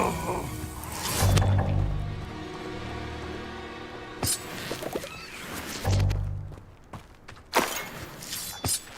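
A Confringo spell cast in Hogwarts Legacy bursts with sharp crackling impacts and low rumbling blasts, several hits spread across the moment amid cavern ambience.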